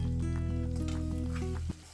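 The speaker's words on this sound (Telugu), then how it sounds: "ఇప్పుడు 1/2 టీ స్పూన్ పసుపు, 1 స్పూన్ కారం వేసి ఫ్రై చేసుకోవాలి." Turmeric and chili powder sizzling in hot oil in a pan for vangibath gojju, a steady close frying hiss with faint stirring, cutting off sharply near the end.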